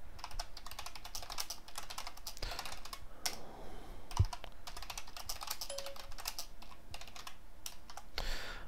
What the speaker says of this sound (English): Can you see me typing?